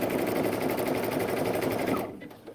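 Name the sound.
Baby Lock Anthem sewing machine sewing utility stitches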